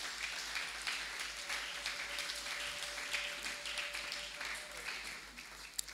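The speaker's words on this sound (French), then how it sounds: "Applaudis pour toi-même." A church congregation claps in a sustained, fairly faint round of applause at a French-speaking worship service, a steady patter of many hands with low hum underneath.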